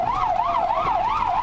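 Hungarian ambulance siren wailing in a smooth, continuous up-and-down sweep, loud and steady throughout with faint road noise beneath, no voices.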